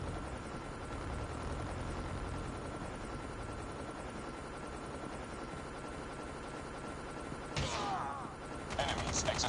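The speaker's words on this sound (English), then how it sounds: "Stealth chopper inbound." Stealth chopper in the mobile shooter Call of Duty Mobile, a steady whirring rotor drone running throughout beneath game effects, with a sharper mechanical burst near the end.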